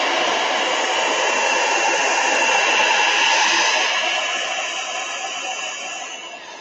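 A dryer blows steadily over a wet craft project on a plastic bag, a constant close whooshing roar that eases slightly in the final seconds.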